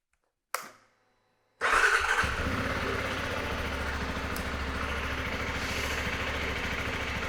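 A Zontes 300 motorcycle gives a brief starter click, then the engine catches and settles into a steady, close idle that rumbles on evenly to the end, with no voices.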